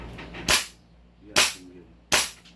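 A gun fired single shots, three sharp loud cracks spaced under a second apart, each with a short decaying tail, close by, with faint low background sounds between.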